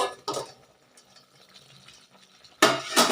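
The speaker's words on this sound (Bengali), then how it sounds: "আমি একটু তলাটা হালকা নেড়ে দেবো" A spoon stirs Kalahari chicken meat in a pot, giving brief scraping and clinking strokes near the start and a louder burst at the end, with quiet gaps between.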